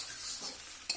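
A spoon scrapes and stirs chopped okra through roasted spice masala in a pan over a soft sizzle, ending with a brief metallic clink.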